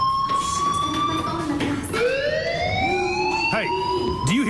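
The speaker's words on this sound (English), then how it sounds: "do you hear that fire alarm?" A school fire alarm in the video game Life is Strange wails with a loud, continuous tone that rises and sweeps like a siren, steady and close throughout.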